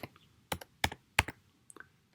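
Keystrokes on a computer keyboard while typing code, a few sharp clicks in quick clusters separated by short pauses, close and clear with no talking.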